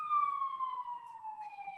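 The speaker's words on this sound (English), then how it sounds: "I'm just gonna wait until the siren passes." A police-style emergency siren passing outside, a steady wailing tone slowly falling in pitch, distant and moderately faint with no voices over it.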